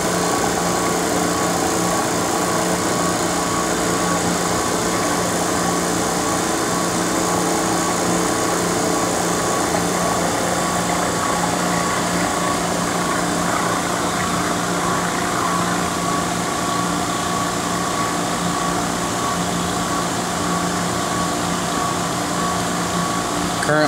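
Vacuum pump running on a YES LP3 HMDS vapor prime oven, a loud, steady mechanical drone with constant hum and airy hiss, unchanging throughout and close by, no talking.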